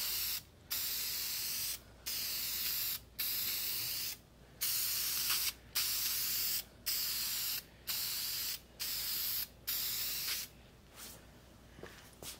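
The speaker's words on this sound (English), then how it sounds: "Spray on your second coat." A spray can lays a second coat of finish on a shop workbench in about ten steady hissing bursts, each roughly a second long with short gaps between, close and fairly loud with no talk.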